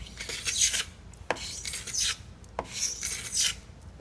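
Steel scraper shaving plastic binding flush on a guitar body, three long, close rasping strokes pulled with light pressure, each ending in a brief tick, with quiet pauses between.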